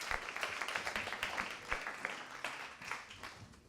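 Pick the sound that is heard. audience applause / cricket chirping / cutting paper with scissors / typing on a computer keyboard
audience applause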